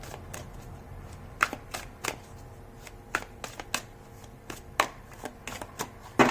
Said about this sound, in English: as I'm shuffling these cards so I can tap into your energy